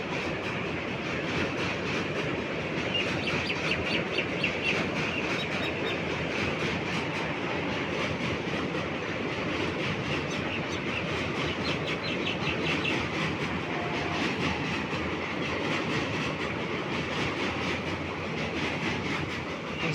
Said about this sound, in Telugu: WAP4 సంత్రగాచి ఇంజిన్ అనమాట. ఇది ఏం ట్రైన్ అబ్బా